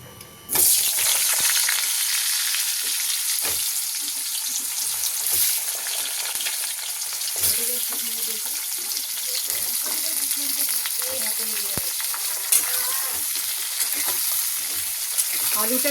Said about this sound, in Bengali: তেলের মধ্যে জিরে ফোড়ন দিয়ে দিয়েছি এবার আলুগুলো দিয়ে দেবো